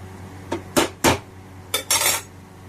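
Drumstick leaves stirred in a metal pan give a few separate scraping, clattering strokes of a spatula against the pan, close and fairly loud with short pauses between them.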